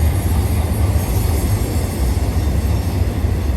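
A BNSF intermodal Z train rolls past at close range on the Cajon subdivision, a loud, steady roar of wheels and rail noise with faint squealing, filling the whole stretch without any talk.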